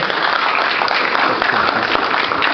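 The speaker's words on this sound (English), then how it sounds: "Can we have a huge round of applause for sir?" Loud, dense applause from an audience clapping for a keynote speaker at a university entrepreneurship summit, continuous and close throughout.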